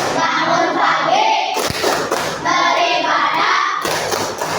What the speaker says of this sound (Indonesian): Tepuk 7 kebiasaan anak Indonesia hebat.